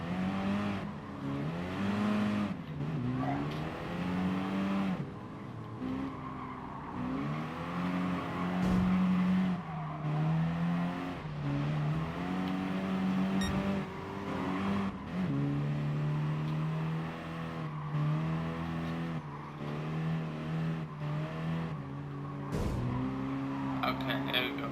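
A Peugeot 208 races around Willow Springs in Gran Turismo Sport, its engine note climbing and dropping through the gears with brief tire squeals, while a voice talks over the continuous game audio.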